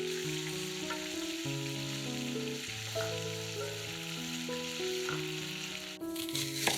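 Meat fillet frying over high heat in oil in a hot pan, a steady close sizzle running the whole time with no talk, under a backing of musical tones.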